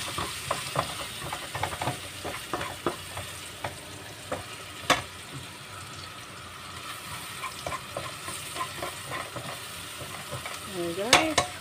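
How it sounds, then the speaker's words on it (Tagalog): Garlic and onion frying in a pan for pork mechado, a steady close sizzle with scattered stirring scrapes and clinks against the pan, no talk. "ihulog na natin ang bawang"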